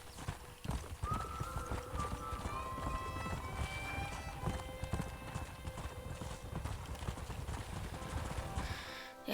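Steady clip-clop of horse hooves at a brisk gait in the Red Dead Redemption video game, with a horse whinnying early on and music running underneath.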